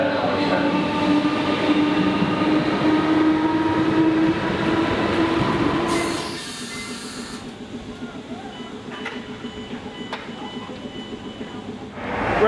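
A TfL Rail train running between stations, with steady loud rumble and a rising whine heard from onboard that drops to a quieter, clattering roll partway through, and faint rhythmic clickety-clack of wheels on rail joints.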